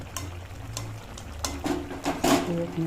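Scraping and clinking of a utensil stirring green banana with fried cumin in a pan, with soft sizzling and a few sharper metallic taps near the end.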